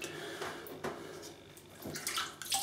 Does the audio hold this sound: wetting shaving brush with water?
yes